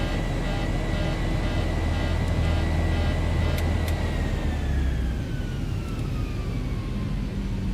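A takeoff configuration warning sounds in the cockpit of a Zibo Boeing 737-800 in X-Plane 11, a steady, loud repeating alarm tone over continuous engine roar as the jet begins its takeoff roll with the parking brake mistakenly set.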